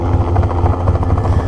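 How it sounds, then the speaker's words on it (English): A loud, close helicopter with a rapid, rhythmic rotor thumping and a steady engine drone, with no other sounds. "flying that helicopter is not cheap."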